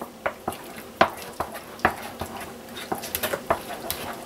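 Casserole ingredients with wild turkey and jarred cheese being mixed in a dish, a run of close, sharp spoon knocks and scrapes against the dish in an uneven rhythm.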